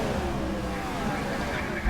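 Stock cars racing at Kansas Speedway roar in a steady, continuous engine drone with revving layers, a dense mid-distance race-track wash with commentary voices faintly mixed in.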